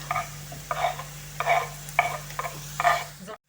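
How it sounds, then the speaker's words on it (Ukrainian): Grated carrots tumble into a pan of softened onion and fry, with close, rhythmic bursts of spatula stirring over a soft sizzle, repeated about five times while cooking green borscht with sorrel. "Цибуля протушилася, стала прозорою і тоді висипаю моркву."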